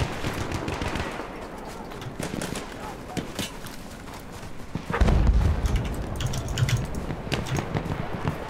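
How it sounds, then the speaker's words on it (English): Gunfire in Battlefield 1, rapid crackling shots in bursts throughout, with a heavier thump about halfway, mixed under players talking. "Guy shooting at us from somewhere, I don't know where he is."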